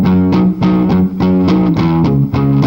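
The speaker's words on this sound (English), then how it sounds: "Reverb back on." An electric guitar played with reverb switched on, a run of picked notes in a steady rhythm, each ringing out and blending into the next, loud and alone.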